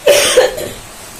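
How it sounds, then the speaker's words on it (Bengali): A person in a home kitchen coughs twice in quick succession, close and loud, with a fainter trailing cough at the end. "তো কাশি হচ্ছে, কিছু মনে করো না তোমরা"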